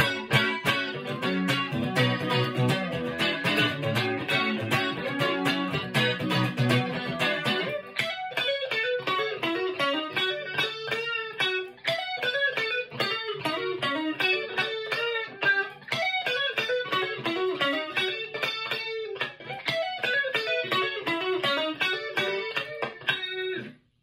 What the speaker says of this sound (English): if we turn off the reverb and we go to our my chorus